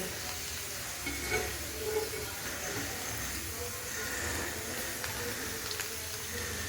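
Papad frying in hot oil, a constant dense sizzle and crackle that holds steady throughout with no talking.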